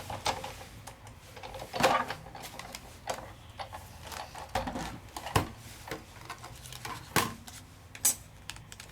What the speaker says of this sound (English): It will fit through a Sidekick machine.